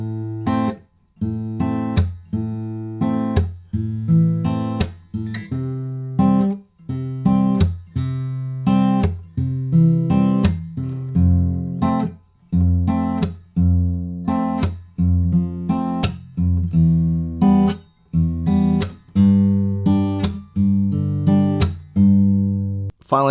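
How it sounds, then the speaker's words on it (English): Acoustic guitar fingerpicking an easier open-chord pattern for a song, played without a capo: steady plucked bass notes and chords repeating in an even rhythm, close and clear with no voices. "that's it for the easier open chord version of this finger picking pattern"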